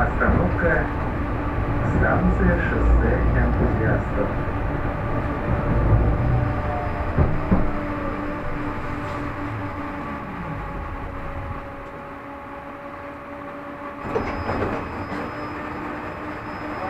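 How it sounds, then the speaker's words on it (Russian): A Moscow tram rolling along its rails, a steady low rumble and rattle with squealing tones and a few wheel clacks, heard from inside the car with faint background talk. "Движение трамвая, держитесь за поручня."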